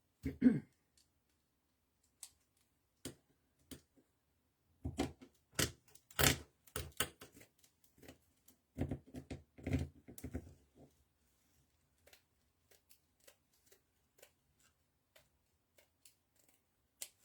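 Scissors cut through burlap fabric for a wreath: sparse, quiet snips and clicks scattered at irregular intervals, with a small dense cluster of cuts in the middle, close and otherwise quiet.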